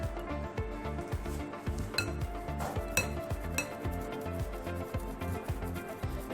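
Finely ground homemade kheer mix powder is shaken through a sieve, producing a fast, steady rhythm of light metallic taps and rattles from close by, with no talking.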